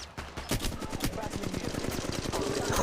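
Rapid automatic gunfire in the mobile shooter Apex Legends Mobile, a dense burst of sharp repeated shots firing steadily and loudly over a couple of seconds.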